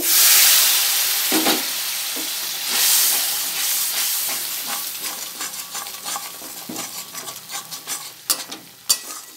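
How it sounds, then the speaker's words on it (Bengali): Spice masala of coriander, cumin, Kashmiri chili and black pepper powders frying with a little water in a pan, a loud hissing burst of steam easing into steady sizzle with stirring scrapes, close and without talk. "এবার মশলাটা আর একটু ভালো করে কষে নেব"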